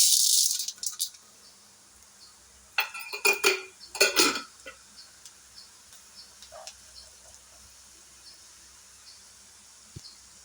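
Urad dal dropped into a hot pan for mint rice sets off a few clattering, rattling bursts of grains and metal, then a quiet stretch with faint scattered taps and light sizzle.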